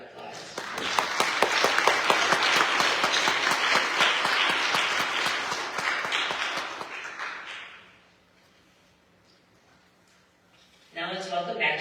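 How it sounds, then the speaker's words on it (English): Audience at a graduation and award ceremony claps for committee members, dense clapping that swells and holds for several seconds, then fades into near silence before a voice begins speaking. "They deserve a round of applause."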